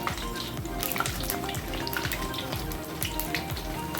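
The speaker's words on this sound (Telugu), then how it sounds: "అటు ఇటు కలర్ మారే వరకు దీన్ని ఇలా ఫ్రై చేసుకుంటూ ఉండాలి బోండాని." Mysore bonda sizzle in hot oil in a home kitchen, a steady dense crackle and bubbling with brief sharp pops throughout, close and fairly loud.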